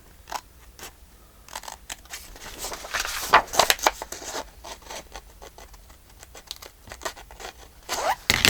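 Scissors snip through paper while making flower pages for a black and white journal, a busy run of sharp close cuts and rustles, some louder, with no talking.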